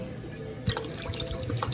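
Red vinegar poured from a bottle into a bowl that already holds Dijon mustard, for a traditional French red vinaigrette: a close, quiet liquid trickle that starts abruptly after a near-silent moment and continues steadily.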